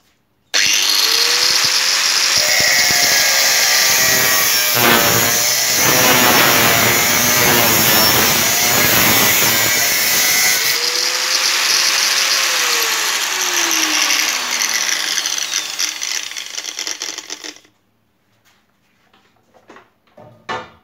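A 4.5-inch angle grinder cuts steadily and loudly for about seventeen seconds, its high whine shifting pitch under load, then spins down and stops, leaving a few faint clicks.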